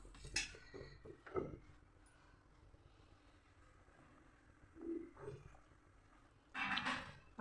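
A spoon stirs boiled milk with milk powder in a pot for sabudana kheer, giving a few sparse, soft metallic clinks scattered through a quiet kitchen, with a louder scrape near the end.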